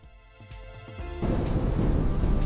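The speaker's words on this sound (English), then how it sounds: "lightning sound in the background" Thunder in an AI-generated video crashes in suddenly after a brief lead-in of tones, then sustains as a loud, rumbling, rain-like roar.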